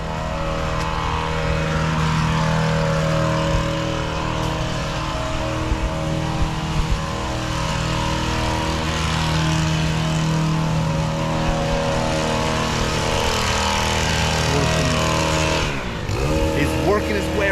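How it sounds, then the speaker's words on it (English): A long-reach gas-powered hedge trimmer cuts bushes with a loud, steady two-stroke engine drone close by. The drone runs without a break and dips briefly near the end. "He's got the longer gas-powered hedge trimmer."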